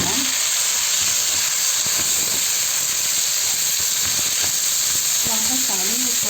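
Rice goes into vermicelli frying in a pan for Egyptian koshari, producing a loud, continuous close-up sizzle and hiss, with a brief voice near the end.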